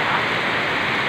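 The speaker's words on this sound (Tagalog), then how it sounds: "Ang lakas-lakas ng ulan." Heavy rain pours steadily in a dense, continuous roar, close and loud, with a person sheltering under cover nearby; no voices are heard.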